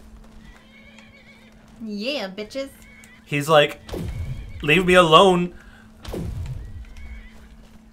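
Horses in the video game Skyrim whinny loudly several times and their hooves thud and clop between the calls, with a voice speaking over parts of the scene.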